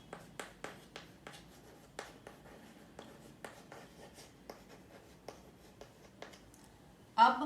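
Pen or pencil writing a Hindi leave-application letter by hand on paper, a steady run of short close scratchy strokes with brief pauses, ending in a louder rustle.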